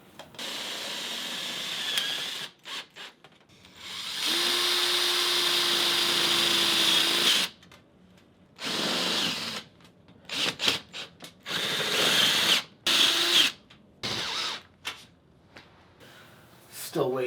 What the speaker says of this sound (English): Now I'm going to join these pegboards together with self-tapping screws since they are metal.